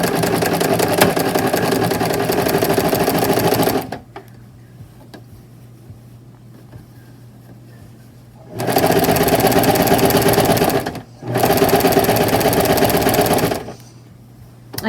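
A sewing machine fitted with an even feed foot stitches the side seams of a knitted sweater, running in three loud rapid-buzzing bursts of about four, two and three seconds, separated by quiet pauses with a low hum.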